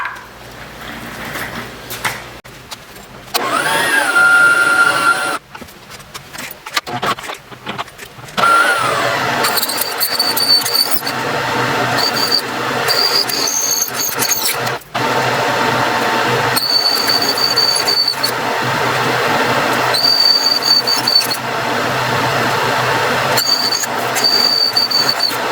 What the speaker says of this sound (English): So I'm gonna go ahead and drill these now for 8mm.